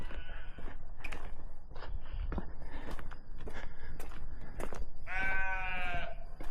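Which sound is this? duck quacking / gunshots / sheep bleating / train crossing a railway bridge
sheep bleating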